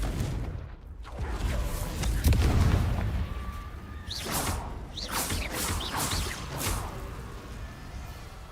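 A Confringo spell explosion in Hogwarts Legacy: a heavy boom early on, followed by whooshing spell bursts and further blasts, loud and fairly close, with no talking.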